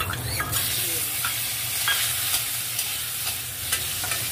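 Boiled taro stems sizzling and frying in a pan of hot oil with spices and bay leaf, a steady close hiss with intermittent stirring scrapes, no voices.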